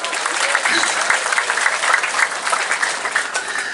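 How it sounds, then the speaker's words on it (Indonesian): Junior high school students applaud their teachers in a classroom, a full, steady burst of clapping from many hands at close range. "aku seneng deh guru-guru kayak ngene iki, kasih tepuk tangan."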